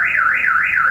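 A car alarm wails loudly and continuously in a smooth rising-and-falling siren tone, close by, with no talk over it.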